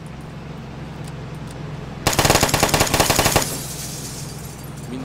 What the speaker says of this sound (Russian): Там еще кто-то стреляет